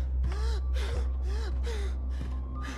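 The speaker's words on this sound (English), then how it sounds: "Stop your panting. Why you gotta breathe like that?" Heavy rhythmic panting and gasping breaths from a character in the horror game Neverending Nightmares, about six loud, close inhale-exhale bursts over a low steady hum.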